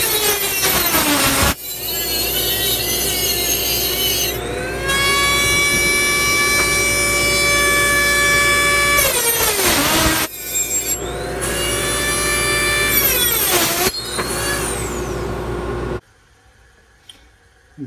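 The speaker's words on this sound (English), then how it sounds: "So I'm just gonna cut these in half right here." Solid brass pieces being cut in half with a saw for a homemade pen clip, giving a loud sustained grinding rasp with ringing metallic squeals that pause briefly and restart before stopping, up close with no talk.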